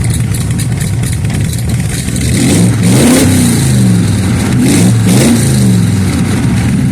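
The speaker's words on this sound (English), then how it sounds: "And then you got a button here for your ignition. For your starter. There you go, starts up." A Shelby Cobra replica's engine fires up on the starter and then revs hard in loud repeated bursts, rising and falling twice over a steady idle rumble, close by with no voices.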